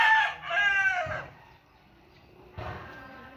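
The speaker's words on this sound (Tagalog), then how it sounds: "Imported na mga manok." Imported fighting roosters crow in two strong bursts, the first long call followed by a later one, with faint clucking in the quiet gap between.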